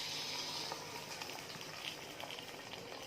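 A fried tempering of chilli and curry leaves is poured into a green gram lentil curry. A sharp hiss at the start settles into steady, close bubbling and crackling.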